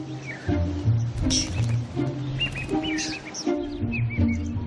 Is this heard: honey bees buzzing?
no